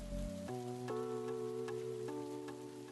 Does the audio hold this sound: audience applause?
no